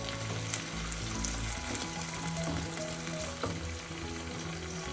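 Onions sizzle steadily in hot oil for chicken curry, a close, even crackling hiss with faint background hum and occasional light clinks.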